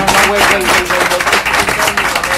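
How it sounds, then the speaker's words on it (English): Meeting audience at a city commission session applauds, steady broadband clapping throughout with voices faintly mixed in underneath. "Just want to give you a round of applause."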